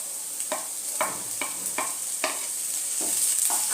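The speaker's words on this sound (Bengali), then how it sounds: "আদা রসুনের বাটাটা দিয়ে আমি একটুখানি ফ্রাই করে নেব।" Ginger-garlic paste frying with lightly browned onions in a pan for a dahi begun (eggplant in yogurt) dish, a soft sizzle under about nine rhythmic scrapes of a spatula stirring, close by with no voices.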